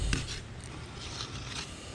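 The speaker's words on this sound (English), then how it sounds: "we're going to cut most of this bloodline out" A knife cuts the bloodline out of a cobia fillet with soft, close scraping and rubbing strokes that run steadily throughout, with no voices.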